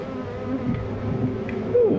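Dense, steady buzzing of many honeybees close by at a hive entrance, a continuous hum with occasional individual bees droning past.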